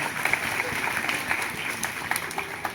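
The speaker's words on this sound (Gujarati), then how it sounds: "એની માટે જોરદાર તાળીઓ થઈ જાય." Sustained applause from a seated school-event audience honouring the girl who hosted, dense even clapping at moderate volume throughout with no speech over it.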